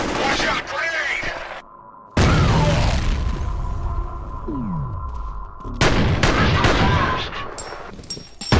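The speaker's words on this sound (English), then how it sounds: "Watch out, grenade!" A grenade detonates during a firefight in the F.E.A.R. video game, a loud burst amid clattering gunfire and rumbling impacts, with game voices speaking over the chaos.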